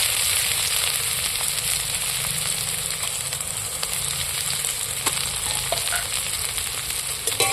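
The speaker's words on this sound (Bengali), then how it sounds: "তেলও গরম হয়ে গেছে এবার আমি কাটা পেঁয়াজগুলো তুলে দিচ্ছি তেলের মধ্যে" Chopped onions frying in hot oil give a dense, even, close-up sizzle that runs unbroken throughout, with faint stirring scrapes and no voices.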